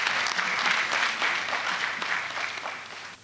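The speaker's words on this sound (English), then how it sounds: "Let's welcome him again with another round of applause." A room of guests at a college ceremony gives a round of applause welcoming the college president, a full dense burst of clapping that slowly thins and fades out.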